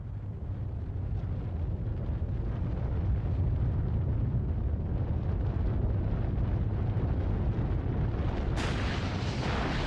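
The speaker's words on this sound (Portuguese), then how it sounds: "Neste teste, a bomba foi detonada 180 metros abaixo do nível do solo. Quando explodiu, deslocou 11 milhões de toneladas de terra" Underground nuclear bomb test detonated 180 metres below ground, heard as a sustained deep rumbling roar that fills the whole stretch at steady loudness, with a sharper hiss rising near the end; no voices.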